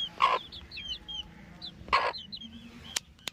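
Hens and their chicks kept indoors cluck and peep softly in short bursts, two louder clucks standing out against quiet background chirping, with a couple of sharp knocks near the end.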